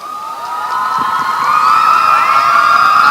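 An audience at an all-India ladies mushaira in Deoband cheers and whoops loudly, the crowd noise building steadily over a few seconds.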